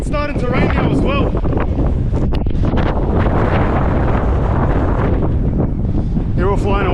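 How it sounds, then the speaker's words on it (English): Strong, gusting wind in the Australian outback buffets the microphone in a loud, continuous rumble, with a person speaking briefly at the start and end. "It's so windy and it's starting to rain now as well"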